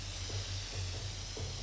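Aerosol spray hissing in the video game Infamous Second Son, a continuous steady hiss under a low pulsing hum, with no talking.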